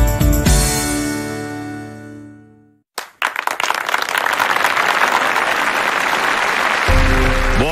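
Applause in a Turkish television advertisement bursts in after a fading musical chord and a brief pause, then holds as dense, steady clapping from a crowd until a tone rises near the end.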